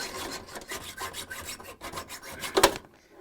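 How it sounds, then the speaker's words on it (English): Hacksaw cutting through the metal axle of a Samsung refrigerator rear caster wheel, a close, steady back-and-forth rasping of strokes with a louder scrape near the end before stopping. "with the hacksaw."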